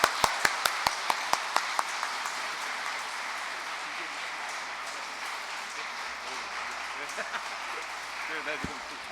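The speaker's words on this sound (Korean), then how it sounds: "우리 뜨거운 박수로 모시겠습니다" Audience applause welcoming a priest speaker at a Catholic confirmation lecture, opening with a few sharp distinct claps that quickly merge into a dense, even round of clapping that carries on steadily, with a voice briefly audible near the end.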